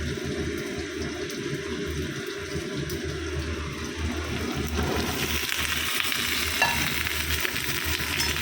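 Vegetables fry and are stirred in a pan of hot oil, giving a steady, close sizzle that runs throughout with the scrape of stirring underneath.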